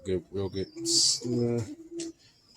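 Soft pigeon coos sound close by in short throaty bursts, with a brief louder flutter or call partway through.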